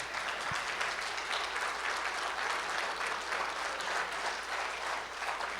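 A church congregation applauds steadily during a sermon, a dense wash of clapping that holds at an even level throughout.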